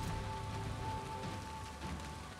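Steady, even rain patters down in a swamp in the game Valheim, a dense constant wash with a faint thin tone running beneath it and no voices.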